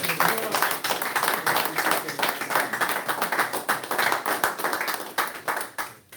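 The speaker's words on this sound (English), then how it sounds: "Could we give our MC another round of applause?" Applause rings out for the MC at a temple service, a crowd clapping in uneven bursts with a clear pulsing rhythm, fairly close and steady for about six seconds before trailing off.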